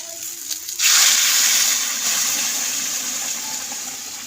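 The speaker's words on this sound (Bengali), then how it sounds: "নাড়াচাড়ার পরে এবার জলটাকে দেব।" Water gushes into a hot pan of curry and sets off a sudden loud hiss that stays steady and then slowly fades. It is close, with no talking.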